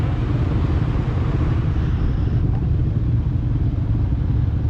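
A motorcycle racing in the Baja 1000 makes a loud, steady engine roar close by that holds evenly for the whole stretch.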